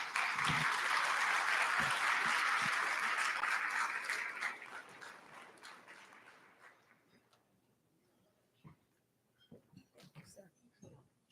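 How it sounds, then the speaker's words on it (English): Audience applause at a college of engineering end-of-year celebration, loud sustained clapping for about six seconds that fades out, followed by scattered claps and small room noises. "Please greet him with a round of Aggie applause."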